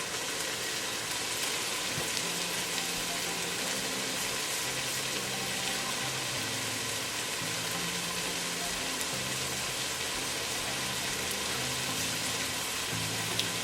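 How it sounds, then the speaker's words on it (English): Tomatoes with garlic frying in a pot as the base for a Guyanese fish broth, a steady, even sizzle and crackle running throughout, with a faint background tune beneath it. "You're gonna let that fry up a bit."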